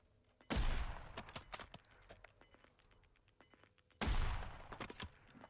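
Two sharp bursts of rapid video game gunfire, the first near the start and the second about three and a half seconds later, with scattered shots and clatter between them.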